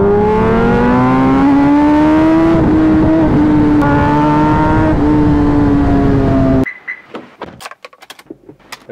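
A motorbike engine drones loud and close with a steady, slowly rising pitch as it pulls ahead. The sound then cuts off abruptly, leaving scattered clicks and light handling noises.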